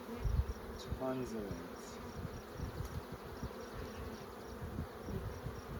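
Honeybees buzzing around an open beehive while a brood box is being added, a steady close hum with a few louder passes, and a person speaks briefly near the start.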